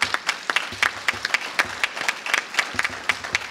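Scattered clapping from a small crowd, individual hand claps distinct and fairly close, continuing at an uneven rhythm throughout.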